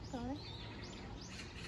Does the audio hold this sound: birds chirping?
yes